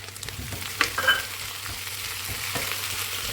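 Peas frying with other vegetables for aloo gobi mattar give a steady soft sizzle in the pan, broken by a few light scrapes and clinks of stirring, close by and without talk.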